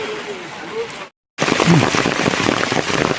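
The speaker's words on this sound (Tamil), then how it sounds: "மழை பெஞ்சிட்டே இருக்குது" Steady rain pours over a forest pilgrimage path on the traditional Sabarimala trek from Erumeli, a dense continuous hiss that drops out briefly and returns louder, with faint voices and a low call under it.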